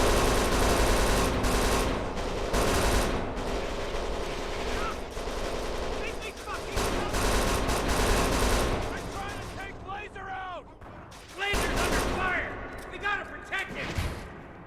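Rapid gunfire from hip-firing weapons in the video game Kane & Lynch 2: Dog Days, dense bursts and shots layered with game effects and music, with talk running underneath.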